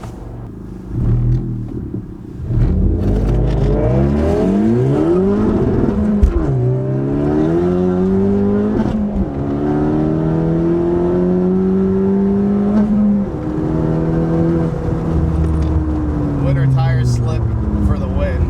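A 10th gen Honda Civic Si with bolt-on parts and an upgraded turbo pulling hard, its engine note rising in several climbing sweeps between gear changes, loud from inside the cabin, with voices at times.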